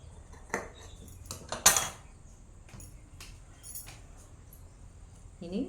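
Scissors cut through chudidhar top fabric in a tailoring session, giving a few sharp, crisp metallic snips at irregular intervals with a voice speaking quietly in between.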